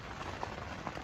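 Rain patters steadily on a fishing bivvy in high winds, making a soft, faint, continuous hiss across a brief moment.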